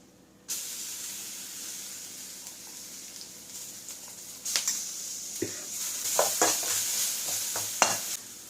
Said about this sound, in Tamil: நம்ம இடித்து வச்சிருக்க பொடி சேர்த்ததுக்கப்புறமா நல்லா வறுபடணும்.